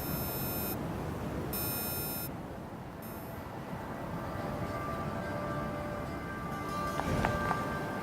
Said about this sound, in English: You guys hear that beeping, ringing noise,